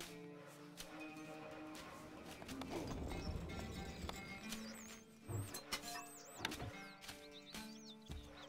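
Horse hooves clip-clop in the strategy game Stronghold: Crusader during a skirmish, a faint rhythmic trotting mixed with game music and other effects, with a brief whinny-like call and no one talking.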